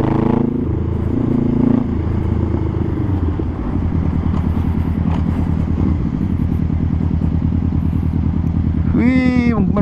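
2020 Honda Rebel 500 cruiser motorcycle with custom parts pulling away and accelerating on the road, a loud, steady engine drone rising through the gears, with a brief higher whine near the end.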